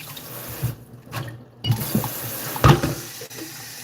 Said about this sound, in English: Just add some water in our blender.